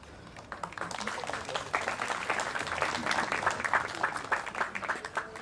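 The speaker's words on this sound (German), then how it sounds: "Applaus" An audience at the opening ceremony for a community centre's tenth anniversary in Steinheim claps steadily, a moderate, even wash of applause that swells slightly and holds throughout.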